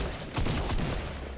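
Fortnite gunfire comes as a quick cluster of sharp, loud shots in a short burst, with no voice over it.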